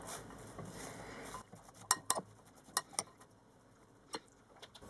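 Sauerkraut, grated carrot and apple are stirred together in a bowl, giving a string of light, irregular clinks and taps of utensil against the dish over quiet background noise.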